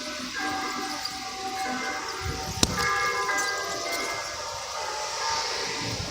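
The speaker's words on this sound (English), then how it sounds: "Now that church over there is doing songs now." Church bells ring out a melodic tune from a distance, a single sharp clang standing out near the middle, with faint outdoor background noise and no speech.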